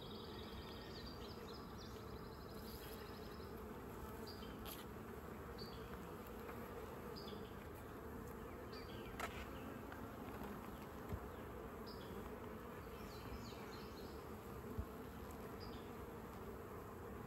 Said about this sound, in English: A lot of activity on this hive.